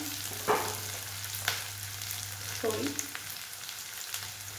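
Onion fries gently in a pan for a masala okra dish, giving a soft, steady sizzle with a few stirring scrapes and clinks over a low background hum, quiet and without talk.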